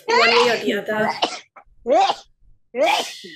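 A single sharp sneeze bursts out between bits of speech, with voices talking before and after it.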